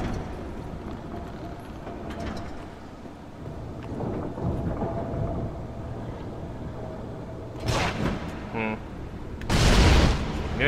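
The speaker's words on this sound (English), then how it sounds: "The giant worm shoots a bunch of thunder and shit." Thunder blasts from a giant worm in the Dark Souls video game, heard at a steady rumbling roar over a rain-like wash, with two sharper loud bursts near the end.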